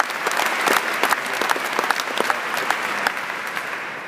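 Audience applause rises at once and continues evenly for about four seconds, a dense crackle of many hands clapping at close range with no voices over it.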